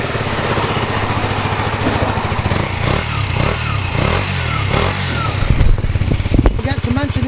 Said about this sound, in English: But before we jump actually on this Ducati Monster, let's start this one up and see what the sound like on this one.